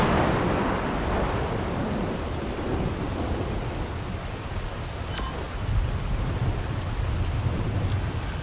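Heavy rain pours steadily in the ARK Survival Ascended video game, with low rumbling thunder rolling underneath; a loud, continuous wash of noise with no voices.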